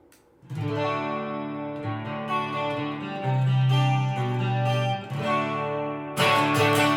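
A Donner HUSH-X headless electric guitar with active pickups plays a short sequence of clean, ringing chords one after another, ending on a brighter strummed chord.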